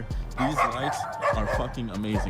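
Several dogs bark and yip repeatedly nearby, outdoors beside a parked car, while someone talks over them.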